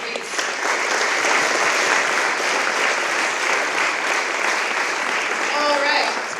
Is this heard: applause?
yes